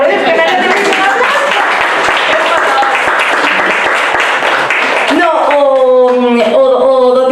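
An audience at a Galician-language colloquium breaks into loud, sustained applause, dense clapping that fills the room before fading into tonal voices near the end.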